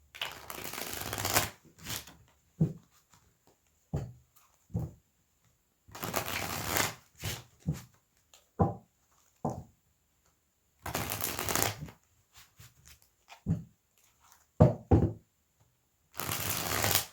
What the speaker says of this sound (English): We're going to shuffle for love.